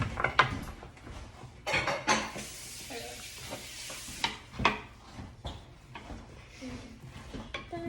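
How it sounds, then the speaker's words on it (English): Food gets stirred and mixed in a sizzling frying pan with a spoon, giving scraping, clattering strokes over a steady frying hiss, close and moderately loud with no speech. "And now mix that all up."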